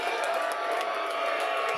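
Loud wrestling crowd at South Broadway in St. Louis cheering in a steady, dense roar that fills the space without letting up.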